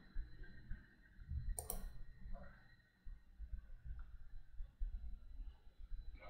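A mouse click during a walkthrough of web services setup in Informatica Cloud: one sharp, brief click near the start, close and clear over faint room noise.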